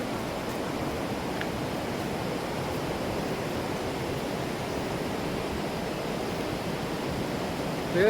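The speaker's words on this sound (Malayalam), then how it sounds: "ഇത് പുഴ" A forest river near a waterfall in Kerala rushes steadily in a dense, unbroken roar of flowing water that holds an even loudness throughout.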